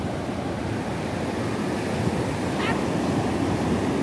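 Surf washing onto a beach shoreline at Big Bay, a steady broadband roar of breaking waves with wind, close and continuous throughout.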